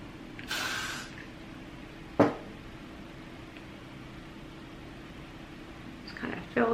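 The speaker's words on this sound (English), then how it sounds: "you can spray it and then you can still work with it" A short hiss of hairspray from an aerosol can near the start, then a sharp brief burst, over a low steady background hum.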